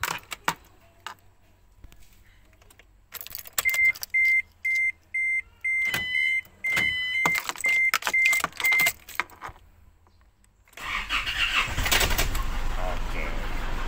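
Isuzu D-Max diesel pickup with a suspected head gasket fault: a run of electronic beeps, then the engine catches near the end and idles loudly and steadily until the clip stops.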